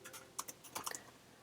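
Lenovo Yoga 900 laptop keyboard typed on in a brief, quiet run of soft, shallow keystrokes, close and alone.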